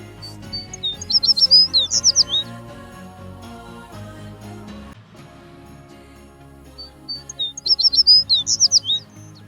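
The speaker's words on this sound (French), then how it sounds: "son chant est un agréable gazouillis aigu décroissant au cours du temps" An American tree sparrow sings two bright, high, descending twittering phrases separated by a pause, clear and fairly close against a faint low background hum.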